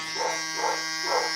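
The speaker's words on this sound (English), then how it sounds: "that's him barking in the background at people coming home." A Vizsla barks three times in steady, evenly spaced bursts, somewhat distant and muffled under a constant background hum.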